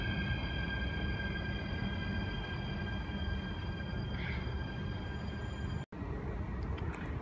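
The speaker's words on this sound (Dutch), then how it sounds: "ik verwacht wel even een treintje rechts" At Eindhoven Centraal station, a passing train makes a low, steady rumble with faint, sustained high metallic tones held above it, moderately near, without speech.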